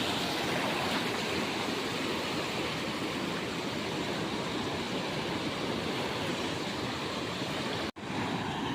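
Strong sea current and waves wash against the shore in a dense, continuous roar of surf that stays steady and moderately loud throughout, broken only by one brief dropout near the end.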